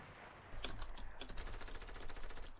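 Rapid, loud gunfire in a shooter video game, a dense string of sharp cracks starting abruptly and continuing without pause.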